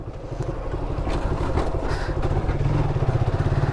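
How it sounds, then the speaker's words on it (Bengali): A motorbike ridden along a rough brick road gives a steady, close engine rumble with a pulsing low throb that grows slightly louder toward the end, with no talk over it. "আমি বাইক চালাইলাম"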